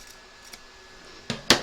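Scissors make two sharp, close snips near the end while trimming fabric for a machine-embroidered moon phases table runner, after a quiet pause with a faint earlier click.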